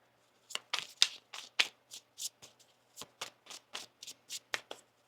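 Tarot cards are riffled and shuffled by hand in a rapid series of about a dozen crisp, close bursts, each a short papery flutter with brief gaps between, alone without talk.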